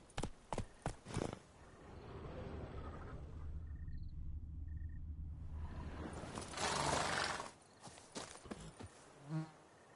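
Roach, Geralt's horse in The Witcher 3, galloping: rhythmic hoofbeats with a low rumble, a brief lull, then more clattering hooves and buzzing insects.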